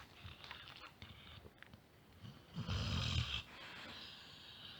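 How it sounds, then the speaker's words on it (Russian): Snoring in a house, a heavy rasping breath rising to a loud snort in the middle, with softer breathing and faint rustling around it, close and alone. "Ты храпишь."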